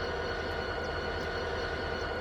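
A train rolls past on the tracks in Train Simulator 2020, New Jersey Transit yard work, heard as a steady, faint, continuous rumble and hiss with no talking.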